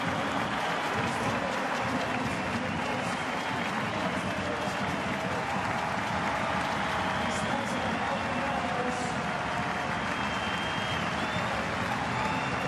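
A dense, steady wave of applause rolls through a football stadium crowd for a substituted player in an A-League match between Central Coast Mariners and Western Sydney Wanderers, sustained and loud with a commentator talking over it.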